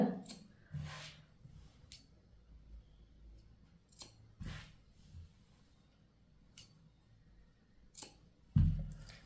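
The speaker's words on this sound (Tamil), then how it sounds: "இப்படி மடித்து ஒரு வீ கட் பண்ணிக்கோங்க" Sharp scissors snip through folded blouse fabric while cutting V notches, a few distinct quiet crisp snips spread apart with soft handling rustle between them.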